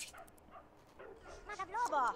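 A dog in The Sims 2 gives a few short yips and whimpering barks, close and fairly faint, rising slightly toward the end.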